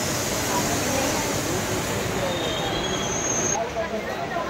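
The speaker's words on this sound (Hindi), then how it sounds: "तो गाइस फाइनली यहाँ से ट्रेन निकल चुका है बड़काकाना के लिए" A passenger train running on rails toward Barkakana, with steady loud rumbling and a sustained high wheel squeal that ends near the close, heard from inside the train.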